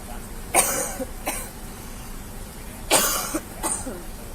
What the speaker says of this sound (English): I've had really bad allergies this week, so excuse me if I cough.